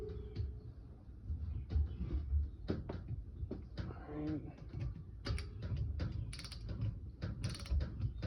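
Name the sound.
torque wrench tightening bolts on Honda 300 front differential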